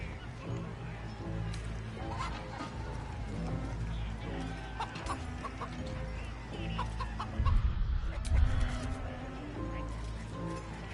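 A chicken clucking in short bursts amid busy background noise and rustling, with people talking over it.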